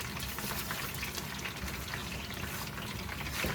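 Orange chicken frying in a pan over low to medium heat, giving a steady, dense sizzle that runs loud and unbroken throughout, with stirring blended into it.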